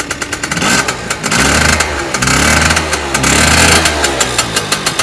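Small two-stroke scooter engine running gently while cold to spin the tyre, a steady buzzing drone that rises and falls with light throttle, close and loud, no voices.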